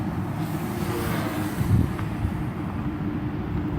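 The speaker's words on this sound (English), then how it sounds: "There's just so much wind" Strong wind buffeting the microphone at a radio-control model airfield, a continuous loud low-frequency rumble with one brief heavier gust, no talk.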